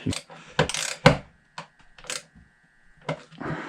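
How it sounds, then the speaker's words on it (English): A 3/4 inch screw is driven into wood to fasten a mousetrap, heard up close as bursts of clicking, ratcheting turns with short pauses between them. "I want to take my 3/4 inch screw and I want to fasten it"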